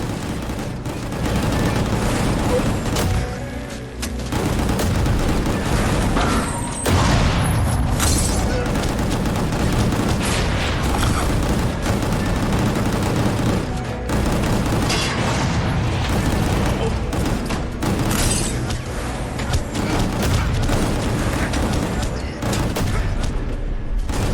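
Rocket blasts and booms crash through the Gungrave GORE action game, layered over dense, nonstop gunfire that stays loud and busy for the whole stretch.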